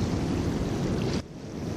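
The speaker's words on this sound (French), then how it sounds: "On dirait que c'est la marée montante parce que les vagues vont de plus en plus loin" Ocean waves wash onto a beach at Plage Saline on Réunion Island as the tide rises, a broad close rush of surf that drops off abruptly partway through, with no voices.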